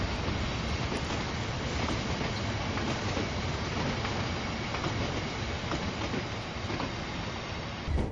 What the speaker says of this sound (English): that's our train full of tankers